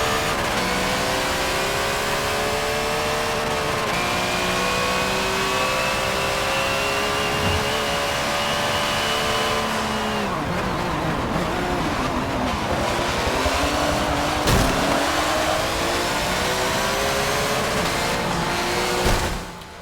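A Porsche 962 race car engine in Forza 7, screaming loudly through repeated high revs with rising and dropping pitch as gears shift, continuous and close throughout.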